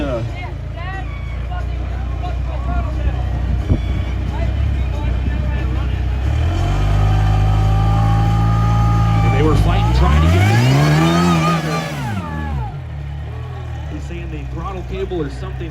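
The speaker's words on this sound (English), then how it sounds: "He's got that supercharged little 4-cylinder engine." Supercharged four-cylinder off-road car at a rock crawling shootout revs hard, engine pitch climbing and falling in loud sweeping bursts close by, with announcer talk running underneath.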